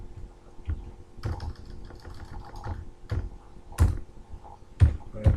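Someone typing on a computer keyboard while entering code in VB.Net, with scattered close key taps and several sharper, heavier keystrokes like the enter key, irregular in rhythm with no talk.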